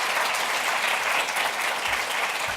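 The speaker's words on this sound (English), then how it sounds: "Let's give her a round of applause" An audience applauds at a workplace metrics case-study talk, steady clapping from a full room at moderate level with no voices over it.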